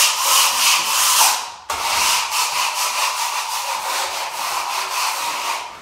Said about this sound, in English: So, let me do a bit of scraping.